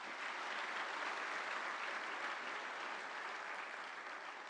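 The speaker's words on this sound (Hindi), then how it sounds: "एक बार जोरदार तालियां हो जाएं।" Enthusiastic applause from a large audience at an event with India's prime minister, a thick, steady wash of clapping that fills the whole stretch at even strength with no talking over it.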